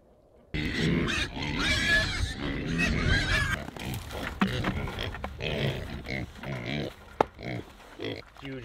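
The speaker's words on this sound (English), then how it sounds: "The pigs absolutely adore butternut squash." Farm pigs eating butternut squash on a homestead, grunting and snuffling close by while people talk over them, with a few sharp clicks and knocks.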